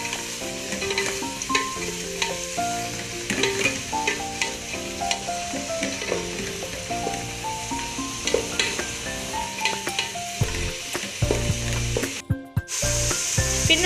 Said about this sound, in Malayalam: നമ്മളതെല്ലാം കൂടെ ഒന്ന് നല്ലോണം വഴന്ന് വരുന്നത് വരെ ഇളക്കി കൊടുക്കുക